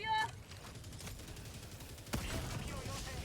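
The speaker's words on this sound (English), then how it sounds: "railgun's so good, man. It's so much fun to use against the bots" A railgun fires in Helldivers 2 against Automaton robots, one sharp, loud blast that fades into a sustained rumble of battle noise. An earlier burst of gunfire sounds at the start.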